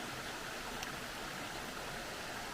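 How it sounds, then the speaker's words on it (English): Nancytown Falls, a waterfall spilling over rocks into the creek below, running at low flow in dry weather, makes a steady broadband rush of water heard from downstream, constant and even without pauses. "Now here's one view of Nancytown Falls."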